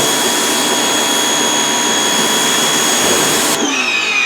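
A Walmart Hyper Tough electric pressure washer, 1600 PSI with a 15-degree nozzle, roars loudly and steadily while spraying during car washing, a close whining motor hiss that shifts pitch as it cuts off near the end.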